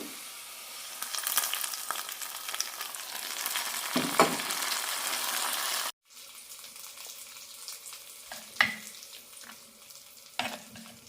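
Mustard seeds and shallots sizzling in hot oil as a tempering is poured into a cabbage curry, a steady loud crackle with sharp spits and stirring, cut off abruptly midway then resuming more quietly with occasional pops.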